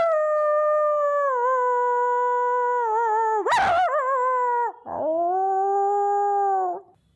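A voice imitates a dog howling, as if at a spirit. One long, close, wavering howl cracks midway, then a second sustained howl follows and fades out.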